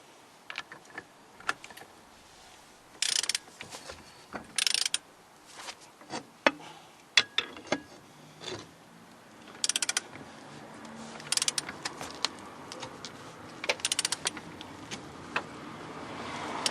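A wrench tightens the hub nut on a Classic Mini, giving a series of ratcheting clicks and metallic clunks in irregular bursts, close and fairly clear with no talk.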